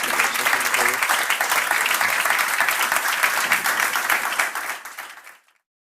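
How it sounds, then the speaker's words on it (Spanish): Loud, dense applause from a large audience at a conservative political gathering, sustained and even for about five seconds before stopping abruptly into silence. "un fuerte aplauso para todos"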